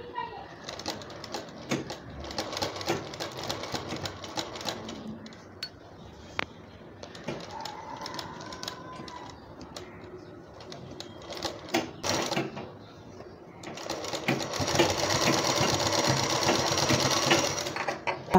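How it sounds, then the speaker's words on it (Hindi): A sewing machine stitching along the piping edge of a dori neckline runs in steady bursts of rapid mechanical whirring. The machine grows loudest near the end, with a voice talking over parts of it. "इस तरह से सिलो सिलो मशीन चलाते हुए पाइपिंग के किनारे हिस्से पर सिलाई लगाएंगे।"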